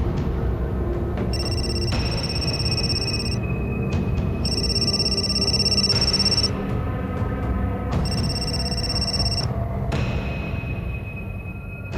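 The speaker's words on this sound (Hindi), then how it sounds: "उसका 20 बार फोन आ चुका है।" A telephone rings in a TV crime drama scene, repeating in three long bursts separated by short pauses, clear and steady over a constant low background hum.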